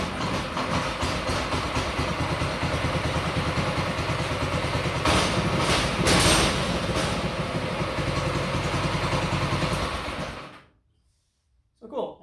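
A homemade go-kart engine fires up and runs at a steady, rough idle, a loud continuous drone with a brief rise in the middle, then cuts off abruptly near the end, leaving a short silence and a small clunk.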